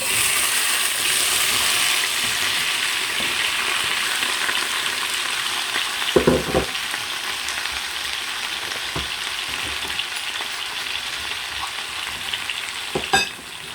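Mixed peppers and tomatoes fry in a few tablespoons of oil with a steady loud sizzle, broken by a few stirring scrapes.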